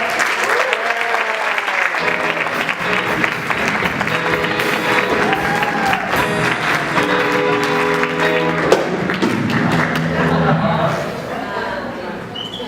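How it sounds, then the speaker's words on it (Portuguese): Crowd at an evening awards ceremony applauding loudly as the general coordinator is welcomed, sustained clapping and cheering with music and voices mixed in, easing off near the end. "Vamos receber com bastante aplausos o coordenador geral, Diego Trevisan."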